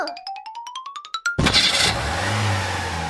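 A car engine cranks over and catches, then revs hard with a loud, rising roar that settles into a steady rumbling idle, preceded by a rising whistle-like tone.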